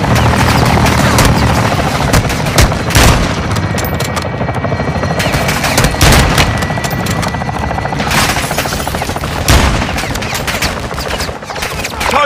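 A called-in strike in Call of Duty Modern Warfare 2 unleashes loud sustained gunfire, with rapid bursts and heavy impacts layered over a constant helicopter rotor drone, close and dense throughout.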